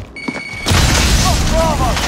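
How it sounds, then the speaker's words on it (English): A grenade goes off in Call of Duty Modern Warfare as a sudden loud boom that rolls into a sustained rumble, with brief voice chatter and game sounds around it. "Throwing grenade."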